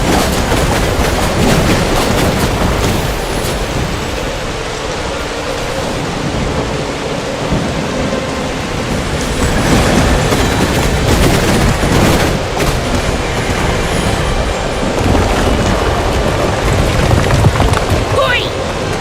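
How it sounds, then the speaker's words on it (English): Heavy thunderstorm with steady driving rain in the dark fantasy strategy game Dungeons 4, a dense continuous roar with rolling thunder swells, loud and close throughout. "The storm raged with immeasurable force."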